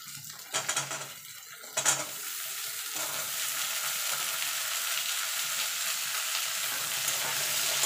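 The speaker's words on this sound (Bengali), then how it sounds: "এবার কুমড়ো আর উচ্ছেটা একসঙ্গে ভালো করে মিশিয়ে নেব।" Bitter gourd and pumpkin stir-fry in a pan with a steady, close sizzle, while a few louder scrapes and clinks of a spatula against the pan stand out near the start.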